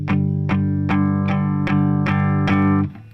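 Distorted electric guitar playing a guitar part, a sustained, bright chord struck again roughly every half second for about three seconds, loud and close, with no talk.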